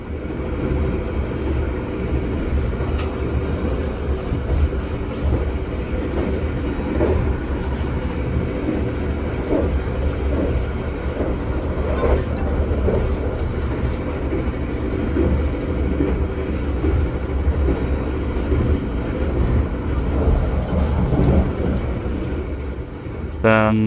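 Steady rumble and rolling noise inside a KA Taksaka passenger train travelling on rails, a continuous low drone with faint periodic clacks that holds steady throughout.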